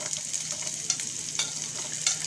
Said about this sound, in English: next I'm going to add some chopped onions